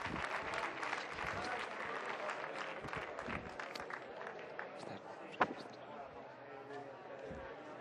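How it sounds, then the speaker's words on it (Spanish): An audience at a Madrid business roadshow session applauds for a presenter, a dense patter of clapping under and around a nearby voice, with one sharper knock standing out partway through. "Ese fuertísimo aplauso para José Luis"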